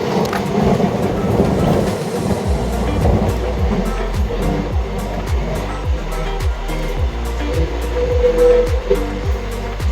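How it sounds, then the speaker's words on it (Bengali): Two long-distance express trains, the Sealdah–Ajmer and the Howrah–Kalka Netaji Express, run side by side, producing a loud continuous rumble with steady rhythmic clatter of wheels over rail joints. "দুই ট্রেনের রেস কিন্তু এখন অসাধারণ"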